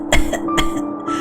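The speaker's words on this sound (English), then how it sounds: "She began to cough." A few short, dry coughs in quick succession, close and fairly loud, with brief pauses between them.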